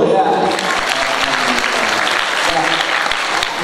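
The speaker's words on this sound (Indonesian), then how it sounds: "Tepuk tangan dulu ya." Audience clapping at an Islamic boarding school event in Aceh Tenggara, a dense, steady wash of applause lasting throughout, with faint voices underneath.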